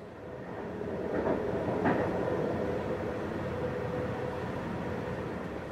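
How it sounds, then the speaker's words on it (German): A regional train rolls along steadily in Lower Saxony, Germany, with a continuous rumbling, rattling hum, the sound of railcars in motion heard from inside or close by. "Der Zug nach Minden oder sogar Bielefeld fährt tatsächlich."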